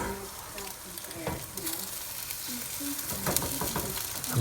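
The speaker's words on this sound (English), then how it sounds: "make sure the oil is smoking before you put your eggs in" Eggs hit smoking-hot oil for golden fried rice, giving a loud, constant sizzle and crackle close up, broken by scraping tool strokes and brief pops.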